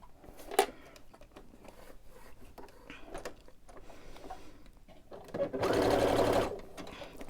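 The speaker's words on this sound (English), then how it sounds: "And then I'll just sew across here." A sewing machine stitching swimsuit fabric gives a steady mechanical whirring burst of about a second, preceded by quiet handling clicks and faint rustling.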